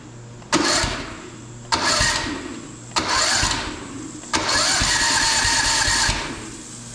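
A Honda GX270 engine with a newly fitted electric starter cranks in four separate bursts, each a loud whirring grind lasting about a second, the last one running longer.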